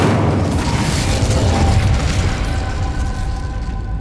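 Incendio fire spell cast in Hogwarts Legacy, a loud booming burst of flame that rumbles for a few seconds before fading out.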